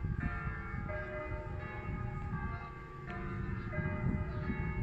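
Church bells in the San Martino tower ring with sustained, overlapping metallic tones and repeated strikes, close and resonant, with a low rumbling hum underneath.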